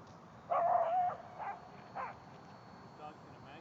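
Dog barking outdoors near the first flight of a home-built RC plane, one strained yelp-like bark followed by a few shorter, fainter barks, spaced apart over a quiet background.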